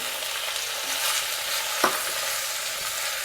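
A spoon stirs flour into softened onions and peppers in a pot for a sausage and shrimp gumbo, giving a continuous soft sizzle and scraping with one brief sharper clink.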